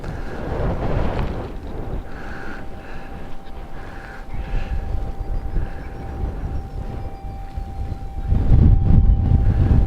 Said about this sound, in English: That wind's strong though.